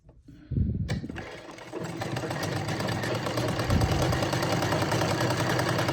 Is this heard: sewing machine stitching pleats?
yes